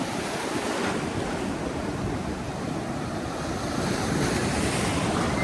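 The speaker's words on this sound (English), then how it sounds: "Just about 7 kilometres from Cowes, and surf is up." Ocean surf breaking on the rugged coast at Smiths Beach near Cowes, a continuous loud wash of waves with low rumbling and gusting wind buffeting the microphone, swelling near the end.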